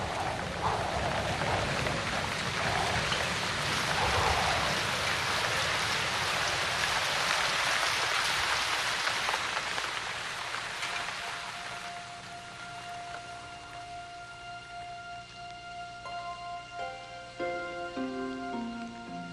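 Heavy rainstorm pouring down in a Mayan jungle, a dense, steady hiss of rainfall that eases after a while as soft musical tones rise beneath it.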